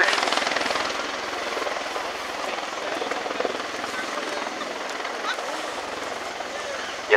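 A steady, loud rotor and engine roar of a Boeing CV-22 Osprey tiltrotor making a rolling vertical landing at an airshow, a continuous broadband drone with no voices.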